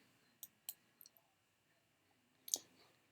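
Faint, crisp computer mouse clicks while a website's Locations link is selected in a quiet room: a few quick clicks, a short pause, then a final sharper click.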